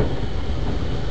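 A freight train hauled by a steam engine in a train simulator game pulls away, making a steady, loud, close rumble of rolling wagons with no gaps.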